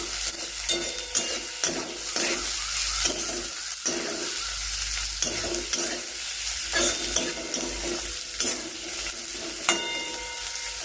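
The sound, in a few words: onions roasting in a pan for fenugreek-seed yogurt curry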